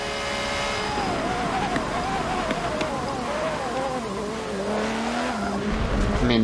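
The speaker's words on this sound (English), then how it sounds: "look at the backfires" Ferrari F50 in the Forza 7 racing game, its engine note rising and falling through sustained revs with downshifts and sharp exhaust crackles, loud and continuous with tire noise and a voice talking over it.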